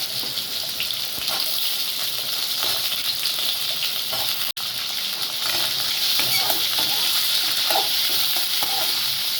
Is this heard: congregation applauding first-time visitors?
no